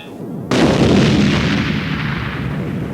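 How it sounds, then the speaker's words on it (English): A loud, booming explosion effect from a Transformers book-and-tape story bursts in suddenly and rolls on as a long rumbling roar that slowly fades, with no voices over it. "There came the roar of an explosion."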